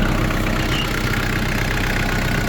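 A Kubota GT3 tractor engine idles in cold winter weather, a steady, even diesel chugging with a slight knock, close and constant throughout.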